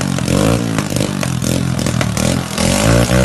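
A motorcycle with a newly installed aftermarket exhaust revs hard, loud repeated bursts of throaty engine roar with rattly pulses, close to the listener and without talking.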